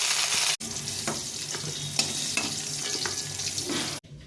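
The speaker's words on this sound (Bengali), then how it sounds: "এই পটলটাকে ভেজে নেব" Close, steady sizzle of pointed gourd (potol) pieces frying in oil in a pan, with a few soft stirring clicks and two brief cuts in the sound.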